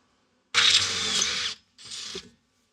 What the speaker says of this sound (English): I'll drill the small hole and then we'll enlarge it for the nutsert.